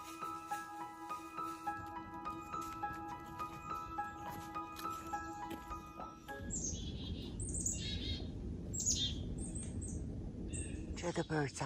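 Birds chirp and sing in the trees on a dark autumn day near Lake Superior on the Keweenaw Peninsula, with repeated bright calls, clearest in the second half, over a low steady outdoor rumble.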